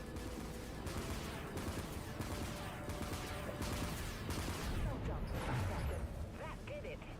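Spaceship primary weapons firing in the video game The Outer Worlds, a dense barrage of rapid blasts and crashing impacts that run continuously at close range, with a synthetic voice speaking over the gunfire.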